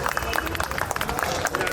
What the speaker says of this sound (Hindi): एक बार सभी तालियों से इनका स्वागत कर